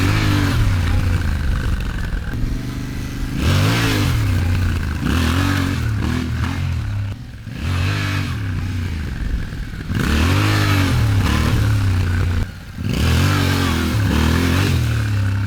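An adventure motorcycle being ridden off-road as the rider pops the front wheel into a wheelie, heard as a close engine repeatedly revving up and dropping back in short bursts, with no talk.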